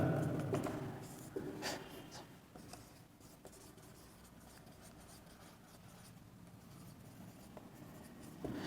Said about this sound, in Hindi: अब हम संदर्भ ग्रंथ लिखते हैं, रेफरेंस बुक